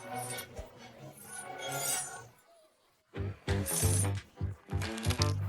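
Chocolate coins dropping, giving light clinks and chinks that mix with a fairly busy background of other sound.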